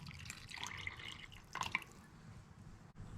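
Warm water is poured into flour with vegetable oil and salt in a bowl for homemade tortillas, giving a faint, short trickle and a few drips, heard alone.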